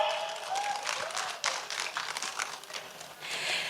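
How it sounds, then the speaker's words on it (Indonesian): Applause from a seated audience at an Indonesian legal discussion forum, a continuous, fairly close clatter of many hands that rises and dips slightly and keeps going throughout. "Boleh tepuk tangan ya?"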